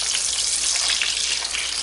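Mutton reshmi kebabs frying in a pan over a medium flame, giving a dense, continuous hissing sizzle that stays close and even throughout.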